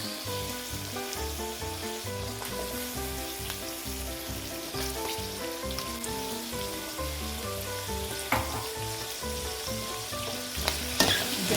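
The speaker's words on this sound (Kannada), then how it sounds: "ಇವಾಗ ಇಷ್ಟು ಫ್ರೈ ಆದಮೇಲೆ ಇದ್ರ ಜೊತೆಗೆ ನಾನು ಲಿವರ್ ಸೇರಿಸ್ತಾ ಇದ್ದೀನಿ" Chicken liver and gundakayee frying in a pan, a steady dense sizzle that runs throughout with occasional sharper pops and scrapes of stirring near the end.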